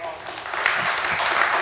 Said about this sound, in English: Round of applause for Scott Burnstein.